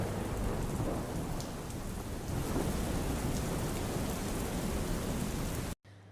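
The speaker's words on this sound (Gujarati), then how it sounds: "મોડી રાત્રે ધોધમાર વરસાદ વરસ્યો." Heavy late-night downpour in Gujarat pours down in a dense, continuous hiss with low thunder rumbling beneath it, steady and loud for several seconds before cutting off abruptly near the end.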